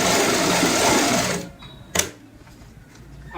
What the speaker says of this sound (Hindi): बराबर मार्जिन रखते हुए सिलाई लगाएंगे